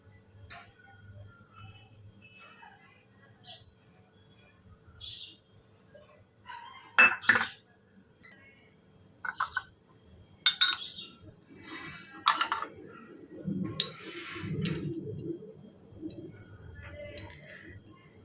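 Spoon clinking and scraping in a bowl while homemade hair oil is mixed with aloe vera gel; scattered sharp metallic taps and stirring, quiet between knocks, louder clatter in the middle.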